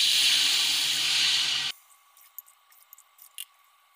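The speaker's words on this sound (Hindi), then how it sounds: "उस हिसाब से हम 5 ग्लास पानी डालेंगे" Water pours steadily into a cooking pot holding rice, a loud continuous rush that stops abruptly, followed by faint quiet clinks and small sounds.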